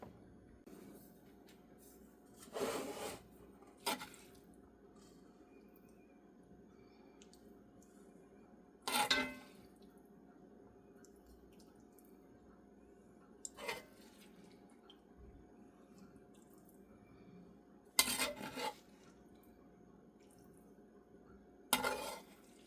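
A spoon scraping and tapping against a bowl while cornbread stuffing dressing mix gets stirred, several brief clinks spaced apart over a quiet background.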